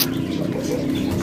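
Pigeons coo steadily in a backyard cage. The low, throaty murmur is close and continuous, with no talking over it.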